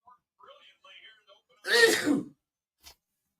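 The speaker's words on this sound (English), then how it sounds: "Sorry, I had to sneeze." A single sharp sneeze bursts out after some faint, quiet murmuring, followed by a brief click.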